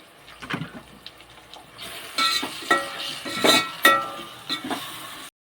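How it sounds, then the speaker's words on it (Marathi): Chopped tomatoes and onion sautéing in a pan, a moderate sizzle broken by a series of stirring scrapes and clinks of the spoon against the pan, ending abruptly, with no talking. "टमाटा थोडा नरम होईपर्यंत टमाट्याला पण थोडंसं परतून घेऊ आपण"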